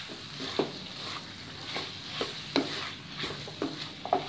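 Tomatoes being stirred into frying mutton biryani masala for a Thalassery dum biryani, a soft steady sizzle broken by regular spoon scrapes and taps against the pot, close and quiet, with no voices.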